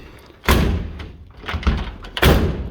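A Ford Anglia door is swung shut onto its latch during sheet metal repair work, producing two loud, close thuds about two seconds apart with quieter knocks between them.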